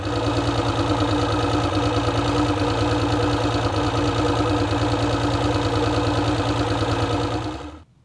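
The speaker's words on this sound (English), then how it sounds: "I love an engine that sounds like that." A Mercury outboard boat motor running steadily at a loud, even idle with a rapid rhythmic chug, then cutting off abruptly at the end.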